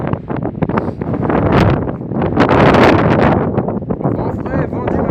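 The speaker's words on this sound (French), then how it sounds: "Vent frais, vent du matin" Fresh morning wind buffets the microphone in a Southern Alps forest, a loud continuous rushing roar that swells to a peak midway and then eases slightly.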